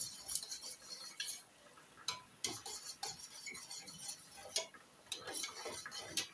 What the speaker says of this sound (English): So I will stir it properly.